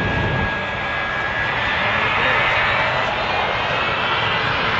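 Super Shockwave jet-powered truck engine winding up on its starter at McConnell Air Force Base: a steady, loud, broadband roar with a thin rising whine, continuous throughout.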